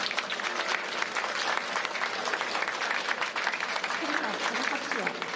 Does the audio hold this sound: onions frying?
no